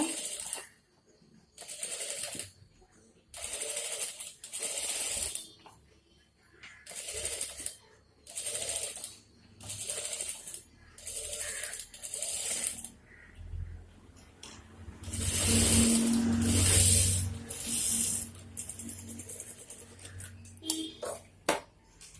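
Sewing machine stitching an embroidered blouse neck with zari work, a sequence of short mechanical bursts of whirring and clicking separated by pauses, then a longer louder run near the end.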